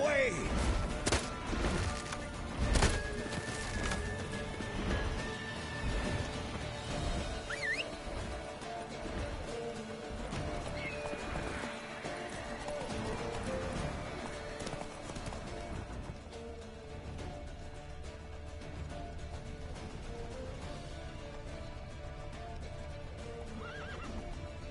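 A horse gallops in The Witcher 3 video game, its hooves clip-clopping steadily over a dense game soundscape, with a loud neigh early on and continuous background music and effects throughout.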